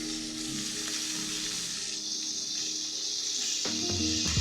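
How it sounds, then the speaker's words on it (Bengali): Cauliflower pieces frying in oil left from frying fish, giving a dense, continuous close sizzle that swells slightly near the end with a few faint utensil knocks, no talking. "এখন আমি মাছ ভাজার তেলে ফুলকপিগুলি ভেজে নেব।"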